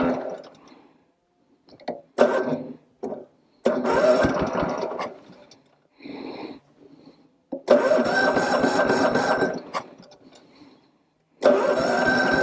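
A 1950 Cushman Turtleback scooter engine cranks in several separate bursts, each churning briefly and then dying out without catching, with quiet gaps between the tries.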